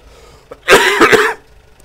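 A person coughs while playing Spintires: MudRunner: a loud cluster of harsh coughs lasting about half a second after a faint throat sound, over a quiet background.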